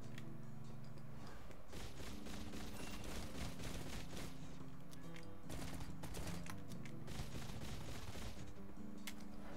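Phantom Pistol gunfire in the Doomed to Hell video game: rapid, dense shots crackling almost nonstop over a steady low game soundtrack, with no talking.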